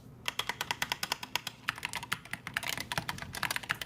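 Rapid typing on an analog-switch gaming keyboard with a gas key mount structure, shown at a Gamescom booth: dense, irregular key clicks in quick bursts, close and clear over a low hum of crowd noise.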